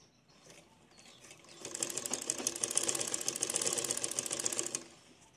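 A sewing machine stitching a designer blouse, starting softly and then running in a fast, steady rattling burst for about three seconds before stopping, close and clear.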